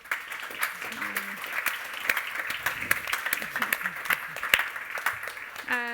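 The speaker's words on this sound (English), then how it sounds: "A big round of applause for our panel." An audience at a Eurogas tech conference on carbon capture and storage claps for a panel, a lively, uneven burst of applause with a few louder individual claps while voices talk over it.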